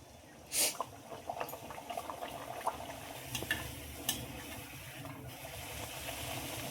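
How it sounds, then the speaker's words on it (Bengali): Spinach luchi made with flour fry in oil in a wok, giving a soft sizzle and bubbling with scattered pops and clinks, and a sharp splash-like burst near the start. "লুচিগুলো ভাজার জন্য কড়াই বসিয়ে দিয়েছি আর তেলও দিয়েছি আর বেলা হয়ে গেছে এবার ভাজার জন্য দিয়ে দেবো"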